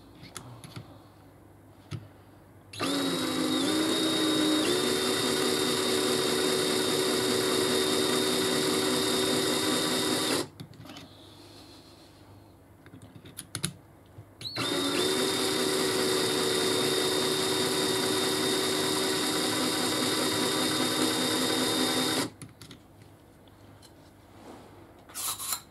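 A powered tool deburring the flash holes of 6.5x47 Lapua rifle cases runs in two long, steady whirring bursts with a high whine, separated by quiet pauses with small handling clicks.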